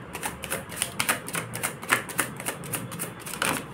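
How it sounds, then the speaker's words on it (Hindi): Tarot cards are flipped and shuffled close by, giving a quick run of crisp papery snaps and flicks in an uneven clicking rhythm, with no voices. "आ नहीं रहे हैं कार्ड्स, फ्लिप हो रहे हैं।"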